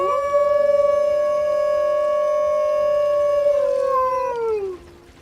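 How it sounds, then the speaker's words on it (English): A single long, steady wolf howl from the zoo sim Planet Zoo, loud and close, holding its pitch for about four seconds before sliding down and fading out. "I've never seen the wolves just constantly howl like this."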